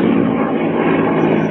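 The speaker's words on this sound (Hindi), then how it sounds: "गाइस देख सकते हैं उदयगिरी के जस्ट ऊपर हेलीकॉप्टर गुजर रहा है यहाँ से" A helicopter passes overhead above the Udayagiri caves near Bhubaneswar, Odisha, its steady, loud engine and rotor roar filling the whole short stretch with no talk.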